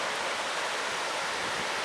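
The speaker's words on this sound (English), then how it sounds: "The creek is running really hard." A creek running hard near a trailhead, its rushing water making a steady, loud, continuous roar that stays even from start to finish, with no voices.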